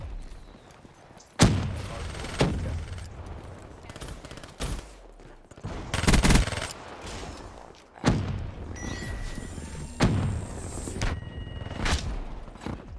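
Bursts of SMG gunfire in Black Ops 3 on the Nuketown map, loud clustered volleys and single thuds separated by short pauses, with no talk over them.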